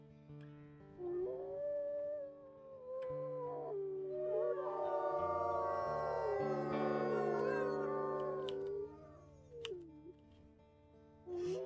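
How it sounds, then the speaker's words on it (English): A wolf howls in the video game WolfQuest, drawn-out rising and falling wails that layer into a sustained chorus over a low background drone, fading near the end. "Let's go ahead and do a little bit more howling here."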